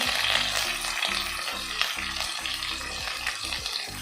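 Cumin, ginger-garlic paste and green chillies sizzling in a pan, a constant fizzing crackle with a repeated low rhythmic scraping or stirring under it, fairly close and without talk.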